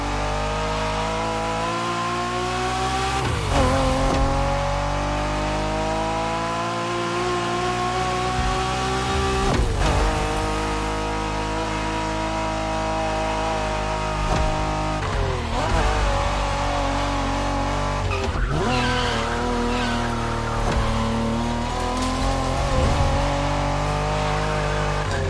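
A Honda NSX sports car races in The Crew Motorfest, its engine revving loudly and continuously with rising and falling pitch through gear changes, joined by brief tire squeals, with no talk.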